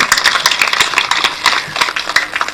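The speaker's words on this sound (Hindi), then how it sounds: "उनके लिए, उनके परिवार के लिए एक बार जोरदार ताली बजाकर उनका अभिनंदन कीजिए" An audience at a spiritual discourse held for Teachers' Day claps together in a dense, loud burst of applause that fills the short moment.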